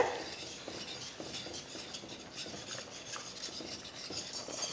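Ground flour batter for kali being stirred in a pot, a steady close scraping and rubbing of a spoon against the pot with faint sizzling underneath.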